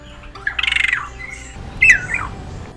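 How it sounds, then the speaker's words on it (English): Two squawking, chattering song phrases from a captive-bred regent honeyeater, the first a rapid run of harsh pulses and the second a shorter, sharper burst, clear and close against a quiet background. "Here is a song of a captive-bred regent honeyeater."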